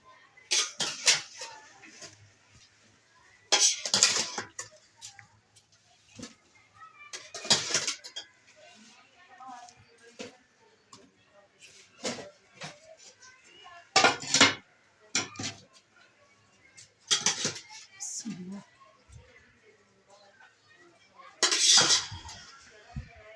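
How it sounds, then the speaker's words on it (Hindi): Pots and metal utensils clink and clatter in bursts while boiled rice is strained through a strainer in small batches, a series of close, sharp clanks separated by quieter pauses. "छानेंगे चावल, छन्नी करेंगे।"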